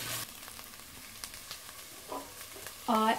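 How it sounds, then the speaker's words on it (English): Onions sizzle quietly in hot oil, with a few soft scraping clicks from stirring and a short tonal sound at the very end. "So I'm just frying the onions"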